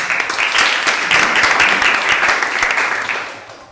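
Students in a classroom give a brief burst of applause for a classmate's answer, dense and even throughout before easing off toward the end.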